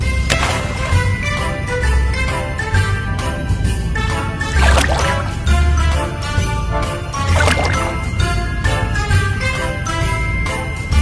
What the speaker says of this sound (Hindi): कौवा बाजू में पड़े कंकर उठाता है और उस मटके के अंदर डालने लगता है।